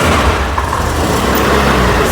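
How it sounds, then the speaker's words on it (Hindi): A 2022 Honda Dio scooter at a second-hand bike dealer starts up and idles with a steady, close, low engine rumble that runs unbroken throughout. "ये देखिए एक बार स्टार्ट करके दिखाता हूँ।"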